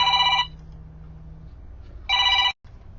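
A telephone rings in two loud electronic bursts separated by about a second and a half of quiet, with a low hum underneath and no talking.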